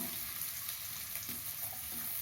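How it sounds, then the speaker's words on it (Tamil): Chopped onions sizzle steadily in hot oil, a continuous crackling hiss with faint stirring, fairly quiet. "3 வெங்காயம் பொடியாக நறுக்கி வச்சது, அதை சேர்த்துக்கலாம். சேர்த்து வதக்கணும்."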